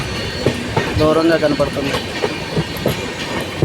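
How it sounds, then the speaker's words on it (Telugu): The New Guntur to Chennai Janshatabdi Express runs on rails near the Guntur–Chirala road, slowing after Appikatla, with a loud, close, steady rumble and rhythmic wheel clatter under a person talking. "అప్పికట్లు దాటిన తర్వాత ఎందుకో ట్రైన్ స్లో అయింది."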